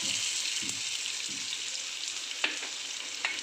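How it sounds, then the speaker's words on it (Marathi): Onion sizzles in hot oil in a tempering for dal khichdi, with a steady bright hiss, punctuated by a few soft stirring scrapes and occasional pops. "आता मी याच्यात कांदा टाकतो"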